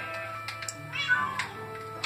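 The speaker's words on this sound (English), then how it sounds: "that's my new ginger cat" Ginger cat meowing inside a desert survival video game, several short mewing calls spread through the clip over a steady game background hum, with no talking.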